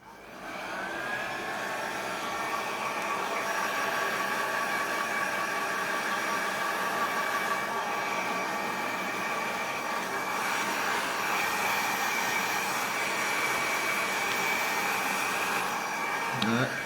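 A hair dryer blows steadily on beard roots, drying against the grain during beard oil, balm and wax application: a continuous close whir and airflow hiss with a faint whine, slight shifts in tone, and no talking.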